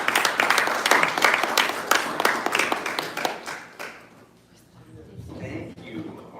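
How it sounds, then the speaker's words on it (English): Applause from an audience at a Yoga Day program inside Frederick, Maryland City Hall greets a yoga instructor, a lively round of claps lasting about four seconds before tapering off into quieter room sound and a voice. "Let's give him a round of applause."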